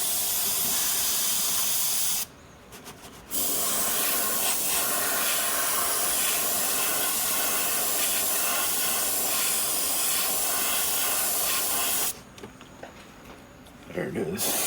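An airbrush sprays light passes of pearl white paint onto a 7-inch glide bait in a close, steady hiss, with two short pauses between bursts.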